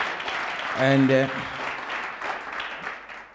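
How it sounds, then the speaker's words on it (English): A church congregation clapping for Jesus during a healing testimony service, a steady wash of hands clapping under a brief spoken word from a voice near the microphone. "Clap your hand for Jesus."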